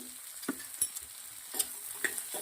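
Vegetables and onion roasting in butter in a pan, a light continuous sizzle broken by several sharp spoon scrapes and taps as the mix is stirred, close and fairly quiet.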